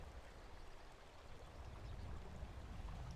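Steady rushing flow of a stream in Skyrim, a continuous broadband wash of water with no breaks, moderately loud and alone without talk.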